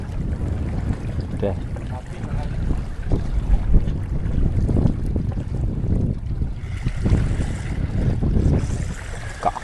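Gusty wind buffets the microphone at sea during a rock fishing trip for grouper as rain approaches, a steady close roar with people talking faintly in places.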